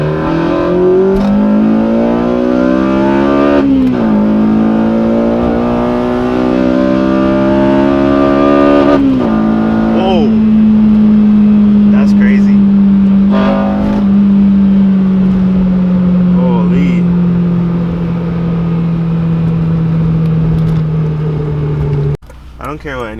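A Honda Civic Si FA5 with traction control off accelerates hard through the gears, the engine note climbing in several rising sweeps broken by brief shift dips, loud and close, ending abruptly.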